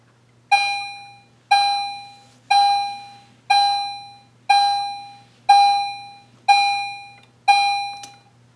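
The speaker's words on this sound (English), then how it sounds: "you're gonna hear the alarm sound" An electronic alarm beeps eight times at a steady one-per-second pace, each tone bright and ringing with a quick decay, with nothing else audible in between.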